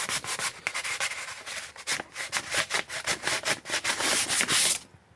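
Wet sanding of Suzuki DR-Z dirt bike plastics with 1200 grit sandpaper makes rapid, close, rhythmic back-and-forth rasping strokes that build in intensity before stopping abruptly.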